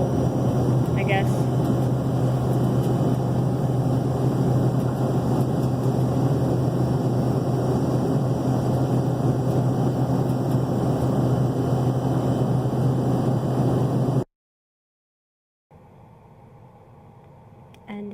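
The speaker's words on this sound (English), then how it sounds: "I got more video of taxiing around and taking off" A passenger airplane taxis and takes off at Dallas airport, heard from inside as a steady, loud cabin engine drone with a constant whine. The sound cuts out abruptly near the end, then returns much quieter.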